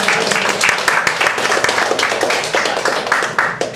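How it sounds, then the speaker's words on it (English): A crowd claps and applauds steadily for a few seconds, dense overlapping hand claps filling a room. "Give yourself a round of applause"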